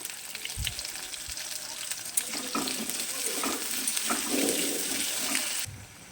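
Carrot and pumpkin pieces for a winter vegetable khichdi fry in a pan with a steady, moderate sizzle and scraping stirs, building slightly before falling quieter near the end.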